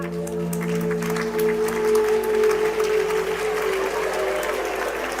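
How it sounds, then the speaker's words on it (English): Applause from parents at a graduation ceremony rises as a steady, sustained clapping, blended with a soft background tone and swelling slightly in the middle. "Parents are applauding, graduates are not."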